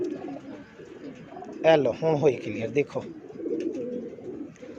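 Pigeons, prized Jonsra breed kept by a fancier, cooing nearby in a few throaty, rolling bursts while someone talks over them.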